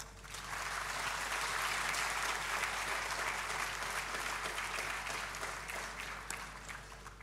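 An audience at an institute induction programme claps warmly to welcome dignitaries, a dense, even roar of applause from many hands that holds steady for several seconds and then slowly thins.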